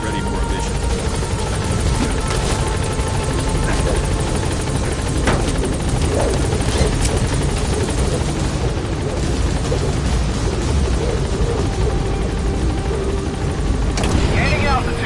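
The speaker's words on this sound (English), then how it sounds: "Board the chopper when you're ready for a mission." A helicopter in Metal Gear Solid V: The Phantom Pain roars at steady, loud volume. Its dense rotor and engine drone fills the whole stretch without letup.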